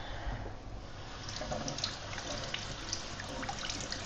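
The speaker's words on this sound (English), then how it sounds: "Hope you can hear that water going." Kitchen tap water runs steadily into a sink while rusty metal parts from a PlayStation 2 slim are washed, a soft continuous trickle with light splashes and clinks, close but faint.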